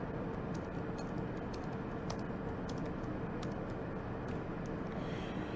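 Computer keyboard being typed on, with sparse, light key clicks scattered over a steady background hiss, close and faint, no talking.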